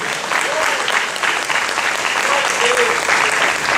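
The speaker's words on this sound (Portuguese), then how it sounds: "Um forte aplauso ao Senhor em nome de Jesus" A church congregation claps in dense, steady applause that continues loudly for the whole stretch, with faint voices and a few singing tones rising over it.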